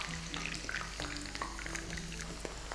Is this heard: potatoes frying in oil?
yes